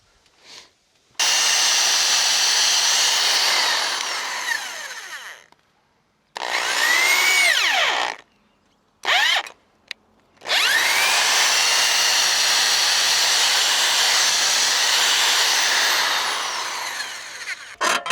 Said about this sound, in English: We got to drill a hole through this telephone pole with this drill bit.